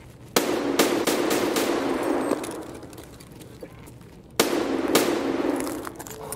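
Video game gunfire rings out in two loud bursts of rapid shots, the first running for a couple of seconds and then fading, the second starting abruptly after a pause.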